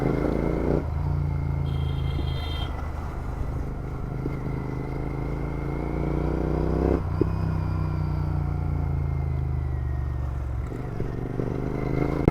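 Motorcycle riding noise heard from the rider's helmet with the visor open, at around 80 km/h: steady loud engine drone and wind rush throughout, with a brief clatter partway through.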